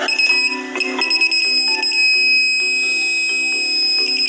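An RF detector beeps rapidly in quick bursts, steady and fairly loud, with a high tonal whine running underneath.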